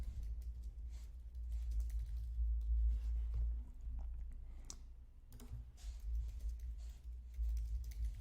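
Typing text on a computer keyboard, a run of soft irregular key clicks, quiet and close over a low background hum.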